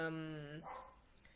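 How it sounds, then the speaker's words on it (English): A dog barks once or twice outdoors, faint and distant, its short tonal yelp fading quickly into room noise. "I know you can hear my dog outside."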